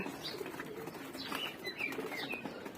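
Young pigeons in their loft on a cloudy day flap their wings in quick bursts and give soft coos and chirps. The sounds are close but fairly quiet, with no talking.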